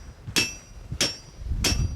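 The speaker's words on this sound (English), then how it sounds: "please put down that hammer" Hammer striking in a garage, three sharp, evenly spaced blows about two-thirds of a second apart, close and clear over quiet background.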